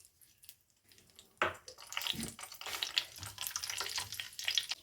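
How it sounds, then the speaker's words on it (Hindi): Raisins lightly roasting in hot oil give a soft, quiet sizzle with stirring scrapes and small crackles throughout. "1/4 कप यहाँ पर लिए मैंने किशमिश। इसे भी हम हल्का सा रोस्ट करेंगे।"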